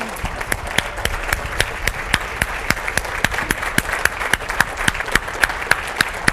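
Audience applause after an Inc. 500 honoree is introduced at a business event, a dense, steady wash of clapping from a crowd with sharp individual claps popping out throughout, loud and sustained with no talk.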